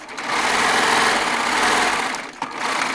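A Baby Lock Triumph serger stitches quilt fabric for a jelly roll quilt top, a fast steady high-pitched whirring hum running almost continuously, with a brief pause near the end.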